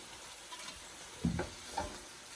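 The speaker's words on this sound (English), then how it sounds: "we're going to keep sauteing until the leeks become a little softer" Leeks sauté in oil in a pot, making a soft continuous sizzle with a couple of brief stirring scrapes close by.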